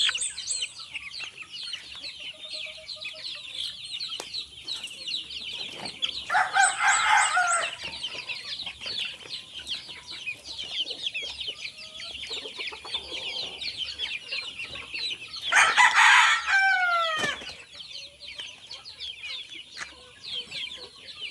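Young gamecocks with straight combs, about two months old, crow and cluck nearby in an outdoor yard; crows ring out repeatedly among constant chattering clucks, with two louder bursts standing out.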